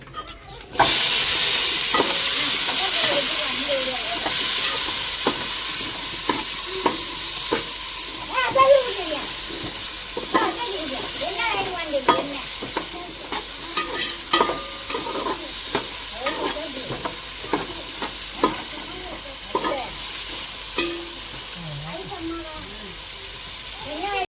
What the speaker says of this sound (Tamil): தக்காளி மிளகாய் முருங்கைக்காய் சேர்த்துக்கிடுவோம்